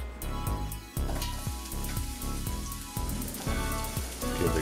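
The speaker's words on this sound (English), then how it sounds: "let's add in one chopped up onion. I'm using a yellow one." Chopped yellow onion sizzling steadily in butter in a pot for Icelandic lamb soup, a close crackle running under a rhythmic tonal background, no talking.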